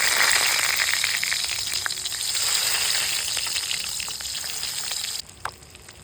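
Eggs frying in hot oil in a pan, a continuous crackling sizzle with scattered pops that holds steady for about five seconds before dropping abruptly to a faint hiss with a last couple of spits.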